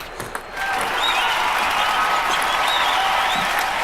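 Steady crowd applause and cheering at a table tennis match in the London 2012 Olympics video game, rising after a brief quiet start and holding loud and continuous throughout.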